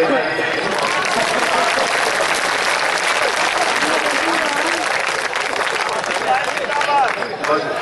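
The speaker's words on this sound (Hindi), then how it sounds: "ताली बजाइए।" Dense, sustained clapping from the audience at a mushaira fills the whole stretch, loud and even throughout, with a few voices faintly mixed in.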